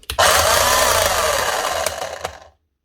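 A demolition hammer being repaired runs with a bad, harsh mechanical sound: one loud, steady, raspy burst for about two seconds, up close, then cutting off abruptly.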